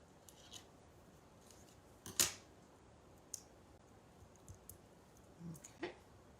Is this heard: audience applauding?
no